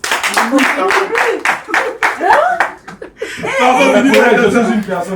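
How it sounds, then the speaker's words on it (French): A talk-show studio audience claps and laughs, with rhythmic bursts of clapping at first, then talk and chuckling, then a loud swell of applause mixed with cheering and laughter that fills the room. "Maximum d'acclamation pour elle, s'il vous plaît."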